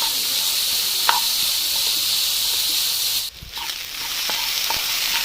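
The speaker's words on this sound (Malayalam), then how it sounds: "ഇതെല്ലാം കൂടെ നന്നായിട്ടൊന്ന് വഴറ്റിയെടുക്കാം." Onions, green chilli and ginger sautéing in a pan for chicken cutlet, a bright continuous close sizzle with occasional spoon clicks and a short scrape as the mix is stirred.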